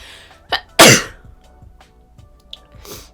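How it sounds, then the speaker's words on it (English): A single loud, sharp sneeze, preceded by a quick inhale and followed by softer breathy sounds, close to the listener in a quiet room. "I need to sneeze."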